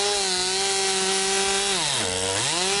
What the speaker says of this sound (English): So she's cutting the wood, and you got the chainsaw.